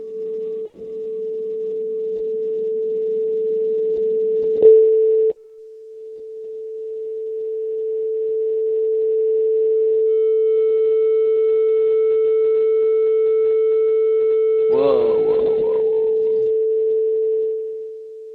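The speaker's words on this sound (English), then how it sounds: "So a random signal generator, and that can output steps, and let's kind of smooth these" A modular synth random signal generator with its stepped output smoothed, heard as a steady, sustained synthetic tone that holds and shifts gently in level over time, with a brief brighter burst near the end and no talking.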